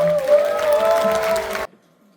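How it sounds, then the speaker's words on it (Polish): A concert audience applauding loudly and steadily at a Polish popular-song concert, a dense wash of clapping that stops abruptly, leaving near silence. "pomysłodawcy Arturowi Szydlowskiemu wielkie brawa."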